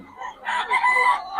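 A stag gamecock crows nearby in a short, rising, harsh call, with faint background noise and no other sounds over it.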